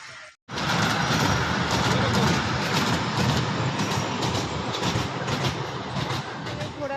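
A toy train with four compartments runs with a loud, steady rumbling clatter that starts after a brief silent moment and carries on without a break, with voices faintly mixed in.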